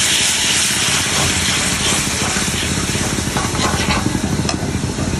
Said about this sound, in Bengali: বাটা মশলাগুলোকে পেঁয়াজের সাথে ভালো করে কষিয়ে নেওয়ার পর